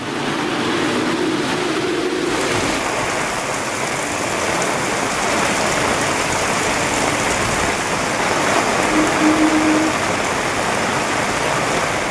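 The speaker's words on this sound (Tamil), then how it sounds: "நீலகிரி சுற்றுவட்டார பகுதிகளில் 2 மணி நேரத்திற்கு மேலாக கனமழை." Heavy rain falls in the Nilgiris hills under an orange alert, a loud, unbroken hiss and roar of downpour on surfaces lasting throughout with no voices.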